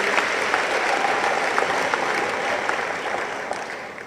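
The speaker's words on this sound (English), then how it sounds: "Round of applause, please." A large banquet audience applauding as the president of Taiwan is welcomed on stage at a European Day dinner, with dense continuous clapping that stays loud and slowly eases toward the end.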